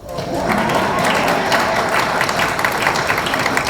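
Sustained applause from a press event audience, dense and steady clapping filling the whole stretch at a loud, even level.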